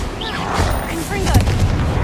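Fire spell blasts and explosive booms from combat in Hogwarts Legacy, a troll fight, loud and dense, with a shouted voice and layered battle effects throughout.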